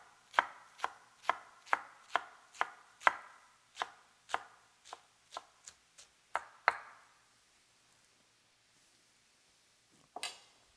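Knife thinly slicing lettuce on a cutting board, a brisk run of about fifteen crisp, evenly spaced chops that stops abruptly, then silence and one last knock, close and with no talk.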